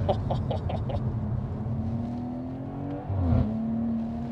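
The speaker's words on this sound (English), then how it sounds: "Even at like half throttle you can just let it rev." Stage 2+ tuned BMW 540i with xDrive revving at part throttle, a droning engine note that holds steady then dips and climbs again, heard from inside the car, no voices.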